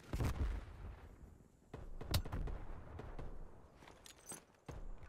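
Gunfire in a video game sounds as scattered, quiet shots and bursts over a low background rumble, with a few sharper reports spaced irregularly across the few seconds.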